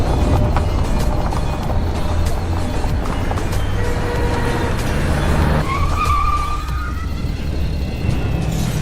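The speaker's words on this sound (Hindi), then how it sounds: "अब क्या तुमसे ये गाड़ी भी नहीं चलाई जा रही?" A car engine runs steadily while driving at night, a continuous rumble with road noise and a brief tire skid or squeal toward the end, no voices.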